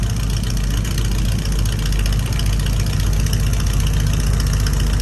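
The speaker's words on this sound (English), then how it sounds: "Charlie's getting ready to head out of here in the Model A. Cranking up the timing there" A Ford Model A engine runs steadily at close range while its timing is adjusted, a loud, even, low chugging idle with a rapid firing rhythm and no talking.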